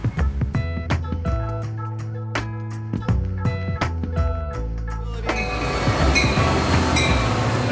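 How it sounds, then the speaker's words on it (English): A city metro train passes nearby, its wheels clicking rhythmically over rail joints with squealing, tonal screeches, then fading into a broad rushing roar as the cars go by. "There goes the Metro."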